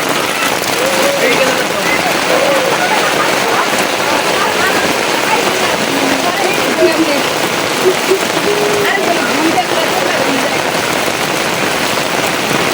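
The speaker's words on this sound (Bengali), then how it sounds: "এখন আবার জোরে বৃষ্টি হইতেছে, অনেক জোরে যাচ্ছে" Heavy rain pours down steadily around a rural home in light wind, a dense, unbroken hiss of drops drumming on surfaces, with a voice talking now and then over it.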